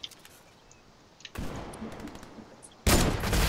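Sniper rifle shots in an online shooter game: a sharp broadband report bursts in midway and rings out, then a second, louder crack hits near the end, both standing alone without talk.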